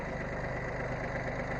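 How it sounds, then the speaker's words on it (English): A big farm tractor engine runs at a steady idle close by, a continuous low rumble with even vibration and no voices. "our big tractor get going here. We got it running."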